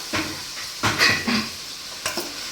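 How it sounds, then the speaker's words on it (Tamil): Boiled vegetables being stirred into a sautéed chili mixture in a pan, giving three scraping, clattering stir strokes over a soft sizzle, close by with no voices. "காய சேர்த்து நல்லா மிக்ஸ் பண்ணிக்கலாம்"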